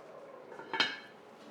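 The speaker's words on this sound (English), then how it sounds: "Now we're going to put a lid on it and let it simmer on low" A lid settles onto a pot of bolognese with a single quick metallic clink, close and fairly soft, over a faint low background.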